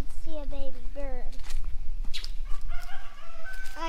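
A pair of parent ducks guard a nest of newly hatched ducklings on a farm, making harsh, throaty calls up close, mixed with other bird calls and footsteps while a person speaks.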